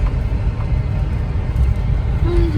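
Congested road traffic in Rishikesh during the Char Dham pilgrimage season gives a dense, continuous rumble of idling and creeping vehicles, with a brief horn-like tone near the end, while someone talks over it.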